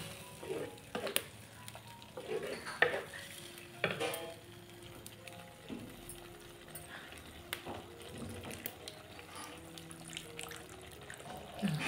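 Water splashes into a pan of sizzling Malvani-style chicken, followed by stirring scrapes and clinks against the pan, close by and fairly quiet.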